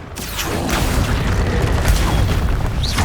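A Confringo fire-blast spell exploding in Hogwarts Legacy on PS5, a loud sustained booming roar with sharp crackling bursts flaring through it, close and heavy from start to finish.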